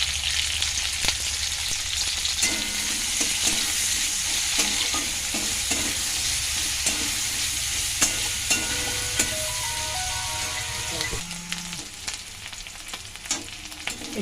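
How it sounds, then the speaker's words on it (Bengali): Onion, garlic and ginger fry in oil with a continuous close sizzle, punctuated by repeated scraping stirs of a spatula against the pan; no voices. "এখন আমি যে একটু পেঁয়াজ, রসুন, এগুলো আমি আদা এটা দিয়ে কষাবো"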